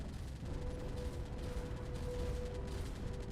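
Explosions striking a destroyer in the Space Engineers game, a dense, continuous rumble of blasts and crackling impacts at steady loudness, with no talk over it.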